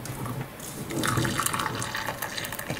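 Hot water poured from a prepared kettle into a British 24-hour military ration pack meal pouch, a steady splashing liquid fill lasting a few seconds, fairly close, with no voices.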